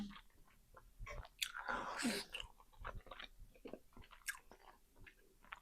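Close, wet chewing and biting of cold cauliflower eaten with egg at a mukbang, a crunchy burst near the middle amid many soft mouth clicks and smacks, with no talk.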